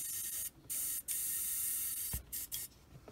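An airbrush blows air through to clear out leftover particles while being cleaned: a steady close hiss broken by a few brief gaps where the flow stops.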